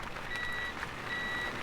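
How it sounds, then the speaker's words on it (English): Vehicles reversing outside an airport terminal in a flight simulator game, with steady repeated reversing beeps over a low truck engine rumble, heard at a distance and faint, with no talk. "And again you can hear the vehicles outside."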